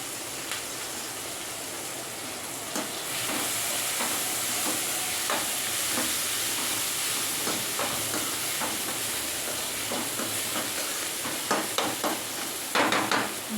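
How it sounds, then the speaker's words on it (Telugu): Thotakura (amaranth leaves) sizzle steadily in a hot pan for a Totakura curry, with a constant frying hiss and repeated scraping stirs that grow sharper and louder toward the end. "తోటకూర వేసుకోవాలి."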